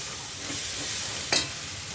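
Chili and turmeric powder masala fries in oil in a pan with a constant low sizzle and hiss. One brief, sharper scrape of a spatula comes near the end. No talking.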